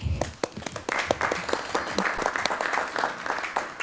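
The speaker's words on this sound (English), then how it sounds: "We can applaud that, can we?" A council meeting audience gives a close, lively round of clapping after a proclamation, with individual claps audible in a steady patter throughout.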